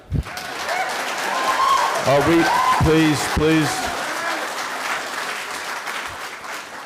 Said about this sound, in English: I'm going to ask again, please refrain from your applause.